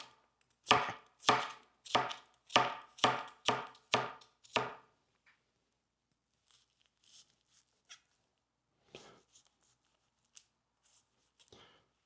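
A knife chops half an onion finely on a cutting board for tuna tartare. About nine firm, evenly spaced chops come close together, then a pause, followed by a few softer, scattered taps.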